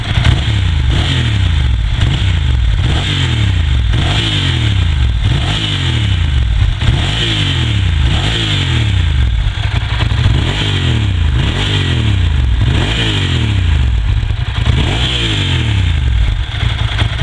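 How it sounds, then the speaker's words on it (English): A motorcycle idles after a cold start, then its throttle is flipped in a series of sharp revs that rise and fall about every second or two, the exhausts loud and close throughout with no talking. "I'll just flip the throttle so you can hear those exhausts."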